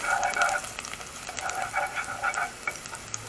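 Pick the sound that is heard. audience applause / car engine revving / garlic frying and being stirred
garlic frying and being stirred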